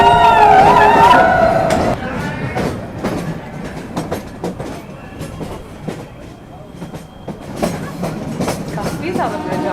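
A passenger train runs through a ghat section in Rajasthan, its wheels giving a steady clickety-clack on the rails with loud rumble at the start, then settling into rhythmic clacking and rolling noise.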